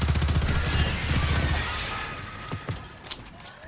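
Rapid bursts of gunfire from the Recluse submachine gun in Destiny, a loud fast rattling stream of shots that stops after about a second and a half, followed by a few scattered impacts and effects.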